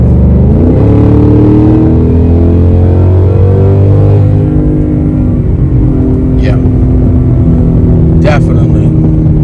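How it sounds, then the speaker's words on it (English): A 2024 Mustang GT with a Corsa Xtreme cat-back exhaust accelerates hard in sport mode, heard from inside the car, its loud droning exhaust rising steadily through the gears. "give it a hit up to about 70 and see what it sounds like in the car in sport"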